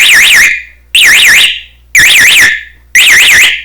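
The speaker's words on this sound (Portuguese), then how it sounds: "essa sirene é barulhenta" A loud electronic security alarm siren warbles up and down in four sharp bursts, each about half a second long, separated by brief gaps.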